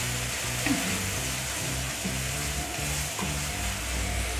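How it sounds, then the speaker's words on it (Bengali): Garlic paste is stirred in hot oil with whole garam masala and a bay leaf, giving a soft, even sizzle over a low steady hum, with occasional faint stirring sounds and no speech. "রসুনটা ভালো করে তেলে নেড়ে নিচ্ছি"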